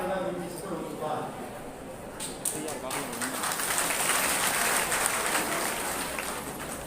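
Audience applause at a Bharatiya Mazdoor Sangh construction workers' union conference in Himachal Pradesh: steady, moderately loud clapping from a crowd that builds slightly toward the end, mixed with voices and hall noise.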